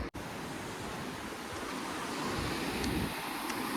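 Continuous rushing surf at Dandi Beach, waves washing in with a broad steady roar and a bit of wind noise, no voices.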